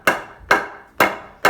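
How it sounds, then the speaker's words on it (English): A hammer taps a wooden log bed piece into glued joints, four sharp, evenly spaced knocks, loud and close with nothing else heard. "just tap it with a hammer."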